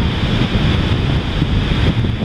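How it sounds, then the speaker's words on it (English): Cold Pacific Ocean surf at Cannon Beach, Oregon, rumbles under strong wind that buffets the microphone, a constant loud wash of low roaring noise with no pauses. "Here's the Pacific Ocean, nice and cold, very windy."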